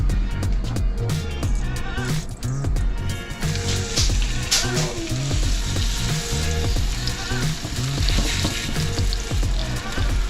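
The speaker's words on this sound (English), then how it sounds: "I got my oil warming up in the skillet behind me" Gag grouper fish fries in hot oil in a skillet, giving a loud, dense, continuous crackling sizzle with bubbling pops throughout, close by.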